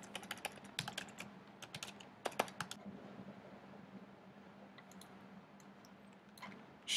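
Someone types on a computer keyboard, bursts of quick key clicks up close, then a pause and a few more scattered taps, with a low hum underneath.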